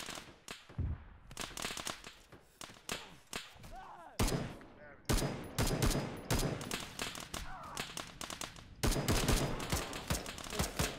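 Machine gun fire rattles through a tactical shooter game session, with dense rapid bursts of crackling gunfire continuing almost without break and a voice occasionally talking underneath.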